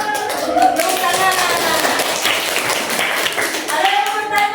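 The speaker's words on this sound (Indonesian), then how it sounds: "Tepuk tangan." Classroom applause from a group of ninth-grade students, a dense burst of clapping that fills the room, with voices mixed in underneath.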